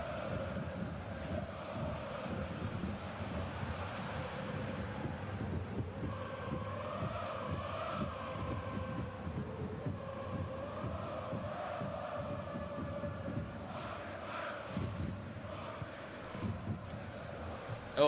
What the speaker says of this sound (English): is the crowd noise that I'm using too loud over my microphone